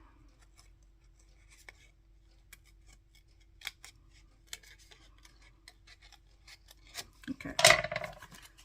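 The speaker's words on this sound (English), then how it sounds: "I'm not going to cut it off, I'm just going to make a cut" Scissors cut cardstock while making a card with peonies and proteas: faint scattered snips and rubbing early on, then a louder, close burst of cutting near the end, with one brief spoken word.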